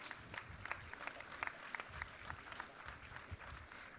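An audience at the ISF 2024 evening plenary session claps to welcome IT Minister Sridhar Babu to the stage, heard as faint, distant, scattered applause without speech.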